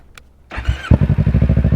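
A Kawasaki Ninja 650 motorcycle with an aftermarket exhaust cranks and fires, then settles into a loud, deep, lumpy idle with a rapid pulsing exhaust beat, very close.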